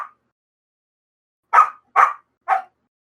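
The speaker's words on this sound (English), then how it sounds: "And I didn't seem like that was because Matilda was barking." Small dog barking in three short, sharp yaps about half a second apart after a brief earlier bark, close and clear against total silence.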